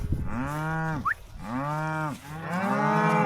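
Cows moo loudly and close by, three long low calls in a row with short breaks between them.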